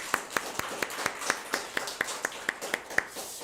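A church congregation at a Sunday service claps in unison, a steady rhythmic beat of about fourteen sharp, evenly spaced claps over a low, quiet room background.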